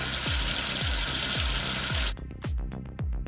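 In a preschool number-tracing game, a cartoon water effect rinses soap off the number 7: a steady gushing rush that stops abruptly, followed by a few bright bubbly droplet blips.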